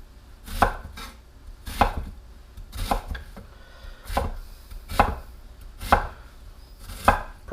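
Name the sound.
knife chopping an onion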